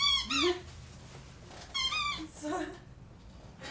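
A squeaky toy squeaks in two longer bursts of high, wavering squeals, then gives a shorter squeak, close and clear against a quiet background.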